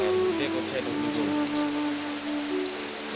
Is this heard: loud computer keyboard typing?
no